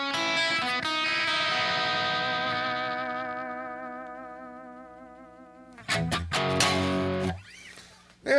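Electric guitar lick with heavy echo effect, a sustained distorted chord ringing and slowly decaying, then a burst of quick picked notes smeared by repeats, loud and close with no talk.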